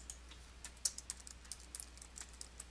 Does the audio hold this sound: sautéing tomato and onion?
no